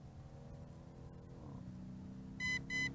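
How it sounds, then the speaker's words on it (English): Two crisp electronic beeps close together near the end from an MJX Bugs 16 Pro drone remote control, over a low steady mechanical hum. "wait until double beeps occur on the remote control"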